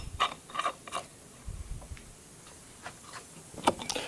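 Clicking ratchet-like ticks and creaks from turning the nut on a pulley installer tool, pressing the pulley onto a power steering pump for a 1971 Dodge Dart Swinger Magnum engine; sparse, close, irregular clicks with quiet gaps.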